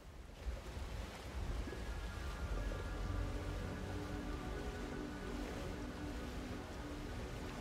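A waterfall in the video game Tunic, heard as a steady, dense rushing roar of water that fills the whole clip at moderate level, close and continuous, with no talking.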